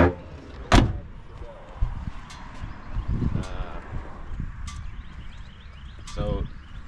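A sharp thump of a 1968 Chevelle Nomad Custom 4-door's door shutting, followed by rustling, softer handling noises and a couple of later clicks and knocks at moderate distance.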